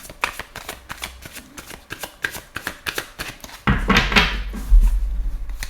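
A deck of cards shuffled for a tarot-style card reading: a quick run of rhythmic riffling flicks, followed by a louder, denser burst of shuffling up close.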